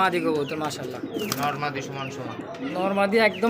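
Pigeons coo at a market selling local and foreign fancy pigeons and chickens. Their soft, repeated coos sit under near, constant human talk.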